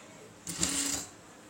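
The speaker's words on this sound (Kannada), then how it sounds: "ಈ ಬಟ್ಟೆಯಿಂದ 1/4 ಇಂಚಿಗಷ್ಟೇ ಸ್ಟಿಚ್ ಮಾಡ್ಕೋಬೇಕು ಫಸ್ಟಿಗೆ" A sewing machine runs a short, steady burst of stitching through blouse fabric, sewing a quarter-inch seam for thread piping. The whirring lasts just over half a second against a quiet room.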